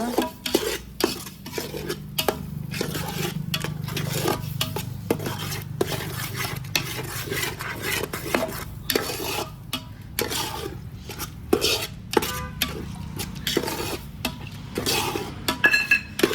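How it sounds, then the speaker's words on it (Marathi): Spicy ground masala paste being sautéed in oil in a pan, a low sizzle under frequent scraping and clinking of a spoon against the pan, with irregular stirring strokes throughout and no talking. "चांगलं परतून घ्यायचं आता आपल्याला वाटण हे तेल सुट सुटसतोपर्यंत"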